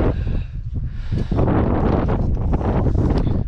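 Strong wind buffeting a microphone outdoors in an open field during metal detecting, a loud continuous low rumble with gusty surges that grows heavier after the first second and holds steady to the end.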